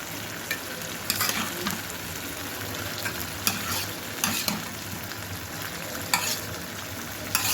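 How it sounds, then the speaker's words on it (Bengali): Fish fries in a covered pan with a steady close sizzle and crackle, broken by several brief louder bursts of spitting oil and lid or utensil clatter, with no talking. "ঢেকে মাছটা দিয়ে দিতেছি এখন"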